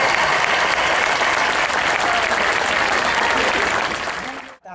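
Audience at a dance festival in Acilia gives a loud, sustained ovation for a ballet school's dancers, dense clapping that holds steady for over four seconds before cutting off abruptly.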